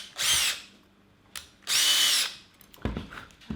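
A power drill bores a hole through a plastic bottle cap in two loud, close bursts of about half a second each, separated by a pause with light handling noise.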